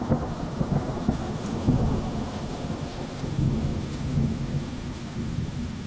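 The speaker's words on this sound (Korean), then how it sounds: "비는 거셌고 번개가 번쩍였다" Heavy rain pours down in a thunderstorm, a dense, loud, steady hiss layered with deep rolling rumbles of thunder throughout, no voices present.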